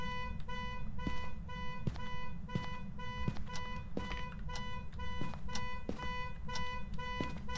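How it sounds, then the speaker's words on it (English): A car alarm in the video game Phasmophobia blares continuously with steady, repeating electronic beeps and tones, loud and unbroken throughout, with faint sounds underneath. "I wish you'd just turn that car alarm off."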